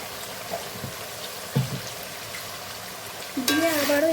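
Ginger garlic paste fries gently in a pan while chicken chaap is cooked, a soft sizzle with a few scraping stirs, and louder spattering bursts in near the end.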